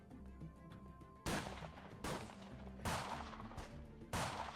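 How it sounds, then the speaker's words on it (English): Four sharp gunshot effects for a Walking Dead tabletop role-playing game session crack out at uneven intervals, each a loud burst with a short rumbling tail over a quiet background, with no talking. "gunshots ring out overhead,"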